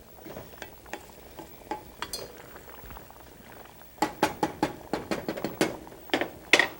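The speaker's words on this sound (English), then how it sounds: "bring it to the boil" A pot of rice and water on the stove heads toward the boil, with a low bubbling bed broken by sharp, rapid clatters and taps that grow denser and louder in the second half.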